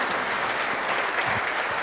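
An audience at an arts colloquium applauds steadily for a short stretch, a dense even clapping heard close and alone.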